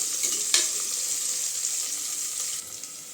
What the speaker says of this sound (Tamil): வெங்காயம் நல்லா வதங்கட்டுங்க கொஞ்ச நேரம்